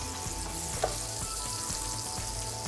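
Butter melting in a pan to begin a roux for béchamel sauce, a soft steady sizzle with faint stirring and one small tap, quiet and close, no voices.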